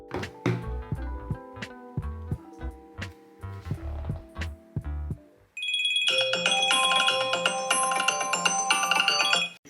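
An old iPhone 3G rings with an incoming call, a loud bright electronic ringtone with a repeating bell-like pattern starting midway. It follows a stretch of plucked melodic tones.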